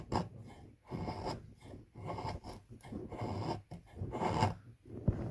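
Fatwood being scraped into shavings, a series of short rasping strokes in an uneven rhythm, close and moderately loud with no voices.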